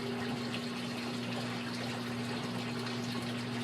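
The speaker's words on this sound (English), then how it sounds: "So we'll go ahead and we'll drain that water out" A GE washing machine drains water during a pressure switch diagnosis, giving a steady rushing, gurgling flow with a constant pump hum underneath, close and continuous for the whole stretch with no talking.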